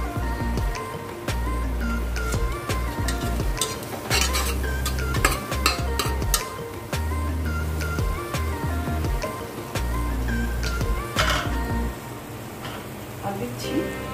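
A spoon scrapes and clinks against a pot while roasted spice mix is stirred into a Bengali mutton curry cooked without onion or garlic, with repeated metallic taps and scraping over a faint sizzle, close by.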